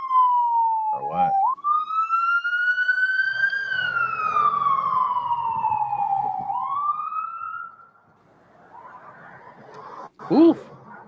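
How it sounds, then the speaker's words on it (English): A wailing ambulance siren sweeps up and down as it passes close by, then fades away, followed by a short sharp honk and background traffic. "I would actually expect to hear more ambulances"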